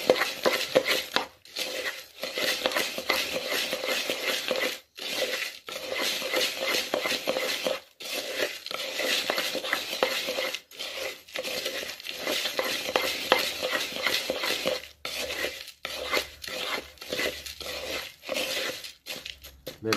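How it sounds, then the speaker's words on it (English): Calcium powder being stirred into pigeon corn: a steady, close rustling and scraping of dry grain, with brief pauses between strokes and light clinks against the container, no talk. "stir it in."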